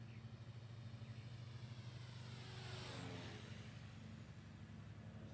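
Small Volantex Trainstar RC trainer plane makes one low pass, its electric motor a steady buzzing drone that swells as it nears at about the three-second mark and then fades away, with no talk.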